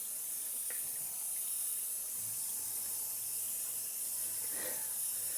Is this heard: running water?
yes